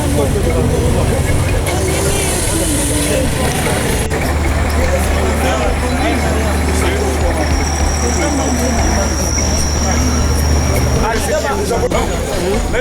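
Cars, buses and trucks setting off in a funeral procession, engines running loudly and steadily close by with a murmur of crowd voices throughout.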